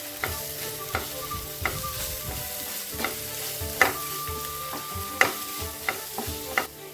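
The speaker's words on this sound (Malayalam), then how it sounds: "ഇതൊന്ന് നല്ലതുപോലെ ഒന്ന് മിക്സ് ചെയ്ത് കൊടുക്കാം" Garam masala and ground cumin being stirred into cooked tapioca sizzling in a pan, with repeated spoon scrapes and knocks over a continuous close frying hiss.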